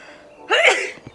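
A single sharp sneeze bursts out close up in a quiet camper van, after a brief moment of near silence.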